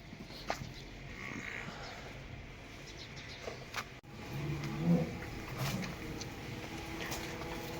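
Faint sheep bleats come and go over a quiet outdoor background, with a couple of scattered knocks and a slightly louder call near the middle.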